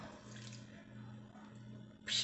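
Water draining through the soil of a freshly potted desert rose, a soft steady trickle close by that swells into a brighter splash near the end.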